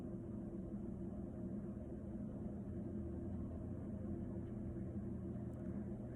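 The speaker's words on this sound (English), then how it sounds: "hear the traffic going by." Steady traffic passing outside, a continuous low rumble and wash of road noise with no distinct vehicles standing out, heard indoors over a faint hiss from a white-noise sound machine.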